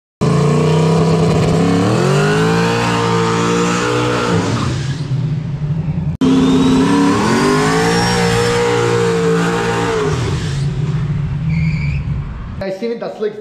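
A race car on slick tires launches on a wet surface twice, the engine revving hard and climbing in pitch each time before cutting off, very loud and close, with a voice heard near the end.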